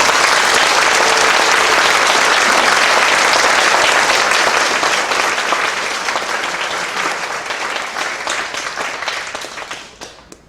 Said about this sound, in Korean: 우리 두 분을 위해서 큰 박수를 부탁드립니다